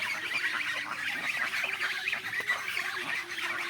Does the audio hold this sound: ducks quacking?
yes